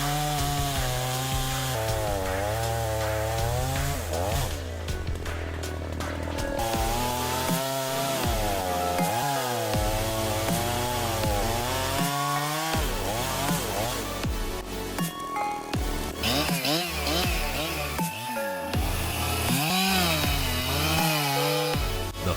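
A Husqvarna 365 chainsaw cuts a log into sections, its loud high-revving whine rising and falling in repeated surges as each cut bites and finishes, continuous and close throughout.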